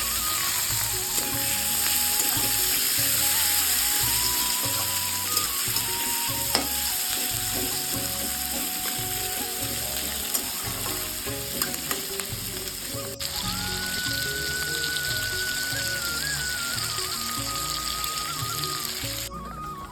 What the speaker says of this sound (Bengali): দেখো পেঁয়াজগুলো কিন্তু ভেজে নিচ্ছে